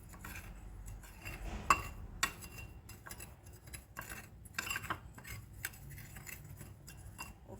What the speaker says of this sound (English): Now I'm going to put 1 tablespoon of flour and mix it together.